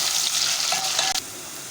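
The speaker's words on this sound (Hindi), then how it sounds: "तो हमारा प्याज थोड़ा सा फ्राई हो जाएगा" Onions fry in a pan with a close, steady hiss and crackle, a brief scrape of a utensil near the end, and no voices.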